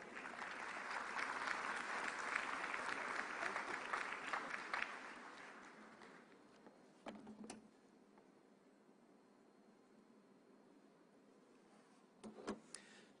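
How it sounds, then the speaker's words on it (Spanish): Audience applause welcoming a speaker to the stage at an anti-corruption conference in Peru, a dense wash of clapping that fades out after about five seconds, leaving quiet room tone with a couple of brief knocks. "Lo recibimos con un fuerte aplauso, por favor."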